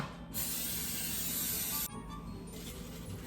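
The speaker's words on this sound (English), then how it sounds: "Now we're gonna cook with baking spray." Baking spray hisses into a pan in a home kitchen, one steady burst of about a second and a half followed by a few quieter handling sounds.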